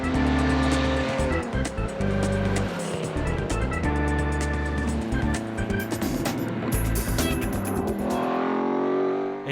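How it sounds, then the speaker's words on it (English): Classic V8 and six-cylinder race cars climbing a snowy mountain road through forest, engines roaring loudly with gear changes and revving surges, tires squealing in places, the sound fading toward the end. "We're now at high altitudes and the V8s and 6 cylinders can be heard in the forests."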